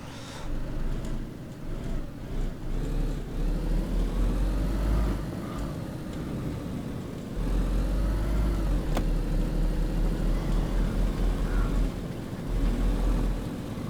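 A car engine in DayZ hums steadily as the vehicle drives over gravel, a continuous low drone that swells and eases with throttle, with tire crunch blended underneath and no talking.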